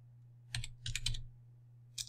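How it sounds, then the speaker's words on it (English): Computer keyboard keys tapped in three short clustered bursts, close and fairly quiet, over a steady low electrical hum with no talking. "and you type"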